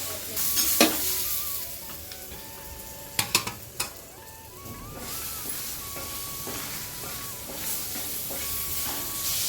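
Guava pieces are sautéed in a pan for about two minutes for a guava thuvaiyal chutney. A continuous hissing sizzle plays throughout, broken by clattering stirs of a utensil near the start and a quick cluster of knocks a few seconds in.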